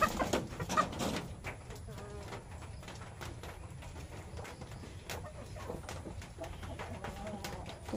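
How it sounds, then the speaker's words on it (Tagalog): Chickens cluck and murmur close by in a steady, busy flock, with a few sharper calls near the start over a constant low background. "Ay nako manok, hindi ka pwede dito, mang-aaway ka."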